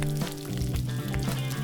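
Onions cook in a pot for chili, making a soft continuous sizzle with a few clinks and scrapes from stirring.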